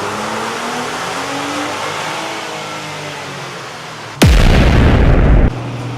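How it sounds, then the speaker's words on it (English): A third-generation Toyota Tacoma pulling in second gear on a dyno with no load, its engine note climbing steadily, then a loud sudden blast-like burst at the top of the rev before it drops away. "So he's gonna do a second gear pull with no load on the dyno."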